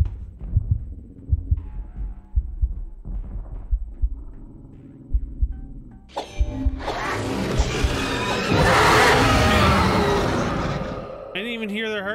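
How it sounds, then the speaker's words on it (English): Heartbeat effect in the horror video game VHS, a low, thudding double-pulse beating steadily in a slow rhythm, joined midway by a loud rising rumble and crash, with some vocal noise near the end. "their heartbeat, because that's what I was listening for"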